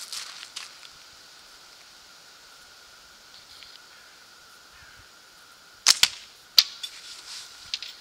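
A slingshot shot with a small microfiber ammo pouch from a catapult-style frame: two sharp snapping releases close together near the end, after a quiet stretch of faint hiss and light rustle, with a softer tap following.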